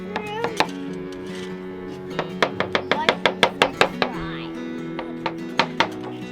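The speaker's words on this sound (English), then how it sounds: "Except for slicing mushrooms." A knife slices mushrooms on a board in a camping kitchen, producing a quick series of crisp, close taps that come in uneven bursts, while a voice talks over the cutting.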